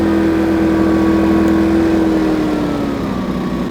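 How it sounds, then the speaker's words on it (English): Two Yamaha EF2200is inverter generators running side by side in economy mode, a loud, steady engine hum with a constant tonal drone that sags slightly in pitch toward the end. "you also have twice the noise output, frankly, because you have two running engines"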